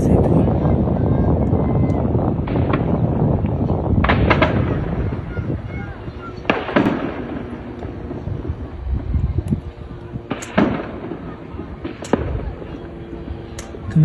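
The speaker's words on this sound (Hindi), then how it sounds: "इजराइल के सैनिक फिलिस्तीनियों के ऊपर गाजा में ओपन फायर करते हुए रिकॉर्ड हुए हैं।" Soldiers open fire in Gaza, with sharp gunshot cracks spaced irregularly over a windy, rumbling background, loud at first then thinning to scattered distant reports.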